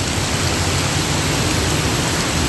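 Heavy rain pours steadily onto a national highway in Malappuram, a dense, unbroken hiss that stays loud and even throughout, with no voices.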